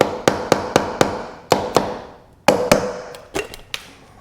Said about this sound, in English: Usually you need a little love tap from a rubber hammer.